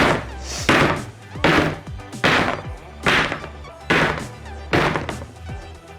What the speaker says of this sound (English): Bang it on the table.